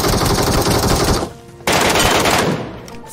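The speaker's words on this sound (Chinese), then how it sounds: "听枪声我还以为是鸡哥呢" Automatic gunfire from a shooting video game rattles in two long loud bursts separated by a brief pause, with no talking over it.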